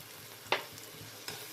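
Fried onion with ginger, garlic and green chilli paste cooking in a pan, a faint low sizzle broken by two quick scrapes of a spatula.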